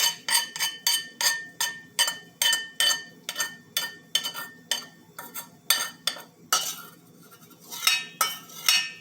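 A metal utensil scrapes and clinks repeatedly against the bottom of a pan of rice that has started sticking, sharp rhythmic strokes close up with a brief pause before resuming.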